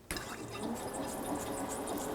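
Water runs steadily onto a manual sample grinding machine fitted with P600 silicon carbide paper, a constant splashing hiss that begins abruptly and continues unbroken, at fairly low volume.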